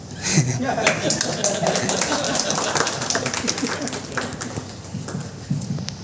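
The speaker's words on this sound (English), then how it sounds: "So a big round of applause to him" Audience applause fills a Toastmasters club demo meeting in a hall, a steady crowd of hands clapping close and loud for several seconds, with some voices and chuckles mixed in.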